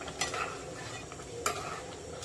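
A spoon stirs garam masala into a thick Agri-style crab curry made with mango in a pan, giving soft scraping strokes with two sharper clinks against a low steady simmer, close and without talk.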